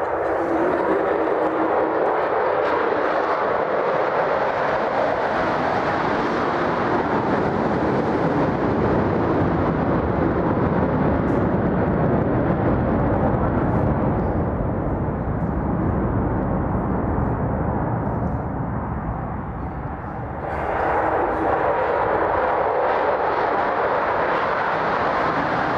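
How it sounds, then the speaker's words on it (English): A two-ship formation of military aircraft roars overhead in a flyby at an outdoor ceremony, a loud sustained jet rumble that swells, dips briefly, then surges again before fading. "He ordered a flyby, it's just right here."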